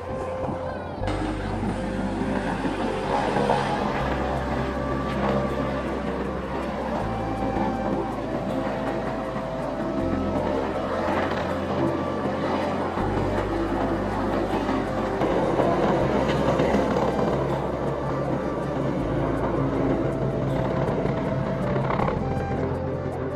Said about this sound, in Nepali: हेलिकप्टर आयो गयो